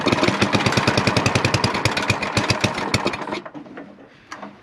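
A snowblower engine cranks and sputters in a fast, loud, regular chugging burst for about three seconds, then cuts out, leaving faint clicks and a brief rattle.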